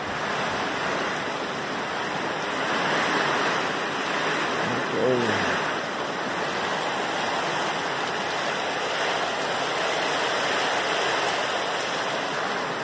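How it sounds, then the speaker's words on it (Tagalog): Strong typhoon wind gusts batter Angeles City, Pampanga, Philippines, a loud, unbroken roaring rush that swells and eases slightly throughout, with one brief spoken word partway through. "Kasi matindi pa rin yung lakas ng hangin."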